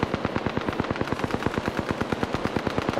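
Rapid automatic gunfire from enemies in the video game Apex Legends, a steady stream of evenly spaced sharp shots continuing for about three seconds at close range, with no talking.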